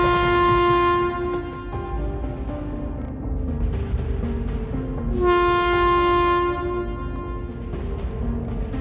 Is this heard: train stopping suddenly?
yes